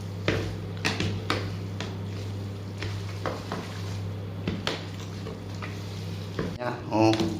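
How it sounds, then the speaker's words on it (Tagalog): Stirring buldak spicy noodles in a pan, with a steady sizzle under repeated scraping and clinking strokes of the utensil against the pan, close and fairly loud, plus a few brief voices. "Haluin mo ang buldak hanggang sa mahalo."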